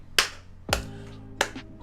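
Three sharp, isolated hand claps or snaps at uneven intervals, close and crisp against quiet background, with no talk.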